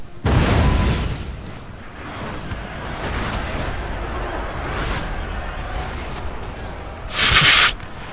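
Cannon fire in a Napoleon Total War battle: a loud boom opens, then a sustained rumbling battlefield din follows, and a second sharp blast lands near the end.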